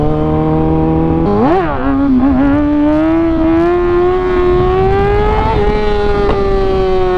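A motorcycle engine revs hard in first gear during a wheelie, a loud, close, steady drone with sharp pitch rises as the throttle opens, then a long climbing whine held alone without talk.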